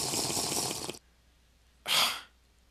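Water splashing in modded Minecraft, a close whooshing splash lasting about a second, then silence and a second shorter splash.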